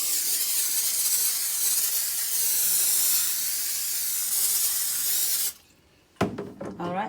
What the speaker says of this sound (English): I'm gonna spray this with the olive oil non-stick cooking spray.